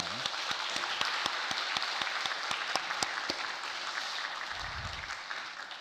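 A church congregation gives loud applause for a newlywed couple: continuous crowd clapping with a steady beat of rhythmic claps running through it, fading slightly near the end with a low thump.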